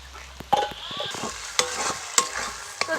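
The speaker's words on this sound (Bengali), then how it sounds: "তো দেখুন আদা রসুন পেঁয়াজ খুব ভালো করে ভাজা ভাজা হয়ে গেছে" Onion, garlic and ginger fry in a clay pot, a steady sizzle broken by scraping stirs and a few sharp clinks of the spoon against the pot. It is close and there is no talking.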